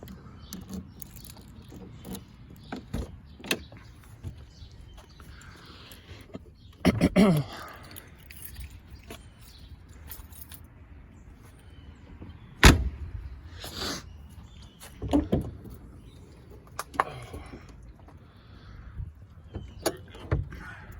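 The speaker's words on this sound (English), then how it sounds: "See if I can get this door open real quick." Scattered clunks, latch clicks and rattles from a car door being worked open, separated by quiet stretches and faint handling noise, on a car with a stock LT1 engine.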